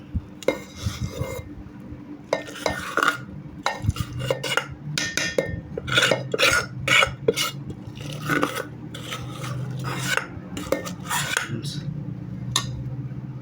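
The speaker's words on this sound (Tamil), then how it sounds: "ஃப்ரெண்ட்ஸ் கிளறிக்கலாம் நல்லா அப்படி போட்டு" A spoon stirs and scrapes lemon rice around a metal pan in repeated rasping strokes with occasional clinks, close and fairly loud, and no talk.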